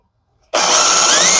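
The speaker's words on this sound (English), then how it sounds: "So I'm going to drill a pilot hole first, always." A power drill starts abruptly and runs steadily at high speed drilling a small pilot hole, a loud whining bite into material with a rising pitch as it drills.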